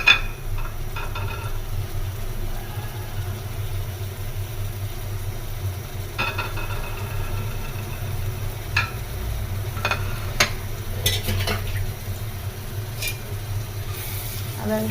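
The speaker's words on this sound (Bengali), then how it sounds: "আদা রসুন পেস্টের সাথে মশলাটা অল্প কিছুক্ষণ কষিয়ে নিই।" Spices fry with ginger-garlic paste in a pan for brain masala, a low, steady sizzle with scattered clicks of stirring and scraping, fairly quiet over a constant background hum.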